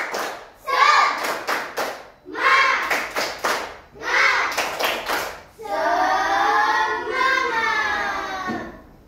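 A group performs a rhythmic spirit clap (tepuk semangat) during a Ramadan quiz: loud bursts of patterned claps in several sets, with voices chanting along, ending in a sustained group shout.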